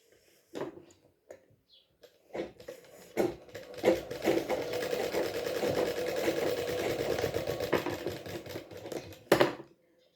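Sewing machine stitching fabric: a few isolated taps, then a continuous rapid mechanical rattle for several seconds that stops with a couple of louder knocks, fairly quiet and close, no talking.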